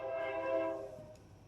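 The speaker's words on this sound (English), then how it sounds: "I love that train." A train horn sounds in a sustained harmonic blast that holds for most of a second before cutting off, then fades into low rumbling background.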